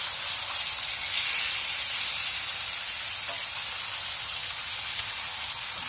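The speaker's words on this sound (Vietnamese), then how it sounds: "Bạn nghe nó xèo xèo các bạn." Rice paper crackers fry in hot oil with a steady, bright sizzle. The crackling hiss is close and continuous, with no voices over it.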